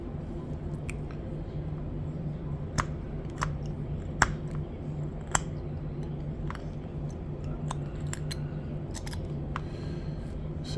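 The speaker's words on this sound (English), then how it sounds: "Just kind of doing a little scoop cut there." A knife carves a scoop cut into a small wooden thread spool, giving sharp, close scraping clicks at irregular intervals over a faint, steady background hum.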